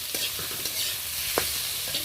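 Chopped onion stirred and fried in a pan for a quick home tiffin dish, a steady close sizzle broken by a few sharp spatula scrapes and clinks, with no voices.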